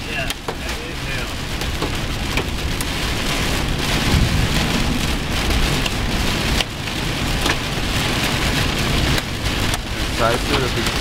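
Rain and hail hammer down on a vehicle in a Missouri storm, a dense, loud, continuous patter with sharper hail strikes scattered through it and faint talk underneath.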